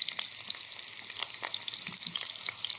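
Steak, potatoes and mushrooms deep frying in a pan outdoors give off a loud, steady hiss and crackle of hot oil, with small pops and spatters throughout and no voices.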